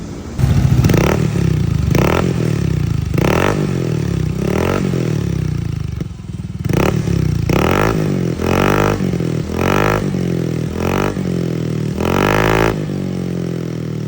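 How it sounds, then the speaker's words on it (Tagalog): A Yamaha Mio i 125 scooter with a KVIN pipe and TTW silencer revs repeatedly in short bursts, muffled exhaust rising and falling in pitch, close by and loud, no talking. "Sound check naman natin mga boss nang marinig nyo kung anong tunog pag merong silencer."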